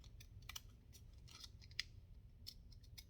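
Decorative-edge craft scissors snip through paper for a junk journal, a run of quiet, crisp cuts in uneven rhythm, close up with low background hum.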